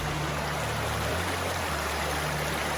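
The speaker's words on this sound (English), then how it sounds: "This is Gales Creek, I'm assuming." Gales Creek in the Tillamook area of Oregon runs as a steady, broad rushing wash of flowing water, close and continuous, with a low hum underneath and no talk.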